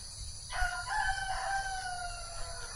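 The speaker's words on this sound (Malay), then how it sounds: "Di Bali ni bunyi ayam." A rooster crows once in a misty hillside village in the early morning, a clear, fairly near call drawn out over about two seconds above a quiet background hum.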